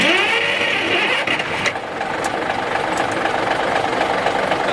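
The diesel engine of a 1964 Kenworth logging truck catches and settles into a loud, rough idle, steady and close with a knocking rumble.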